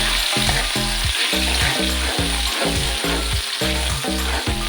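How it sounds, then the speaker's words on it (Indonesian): Spice paste pours into hot oil and sizzles loudly and steadily for Acehnese stir-fried tuna, with a dense continuous crackle under a repeating low rhythmic thumping, and no voices. "Jadi kita tuangkan bumbu halus"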